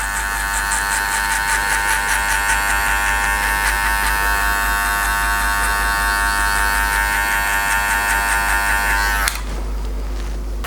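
Electric hair clippers with the blade fully open buzz loudly and steadily up close while cutting hair for a skin fade, for about nine seconds, then switch off, leaving a low hum.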